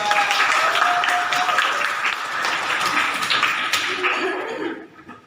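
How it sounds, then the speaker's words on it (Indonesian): Classroom audience applauding after a student volunteers to recite a poem, steady dense clapping from a group of students that fades out toward the end. "Ya, beri tepuk tangan untuk"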